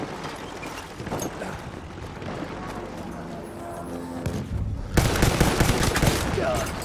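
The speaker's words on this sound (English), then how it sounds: "there's a lot of sniper fire going off" Sniper shots and gunfire ring out during Battlefield 1 Open Beta Conquest gameplay on Xbox One, with repeated sharp cracks and bursts through a busy battle din that turns louder and denser near the end, while someone talks over it.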